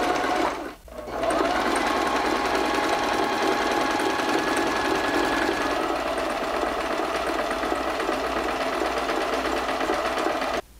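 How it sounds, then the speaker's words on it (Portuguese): A domestic sewing machine stitches lingerie with a flexible stretch stitch, a steady close mechanical whir and needle rattle running continuously after a brief pause near the start, with no voices. "Mas nada te impede de fazer numa máquina doméstica. Nesse caso aqui eu tenho inclusive o ponto flexível"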